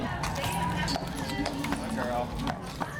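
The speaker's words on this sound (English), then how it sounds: "no prom night would be complete without a ride on a horse-drawn carriage" Hooves of a horse pulling a carriage on a prom-night ride in Clayton clip-clop steadily beneath continuous speech and outdoor background noise.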